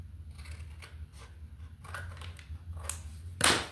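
Scissors snip several times at close range, crisp metallic cuts spaced irregularly, ending in a louder, brighter snip.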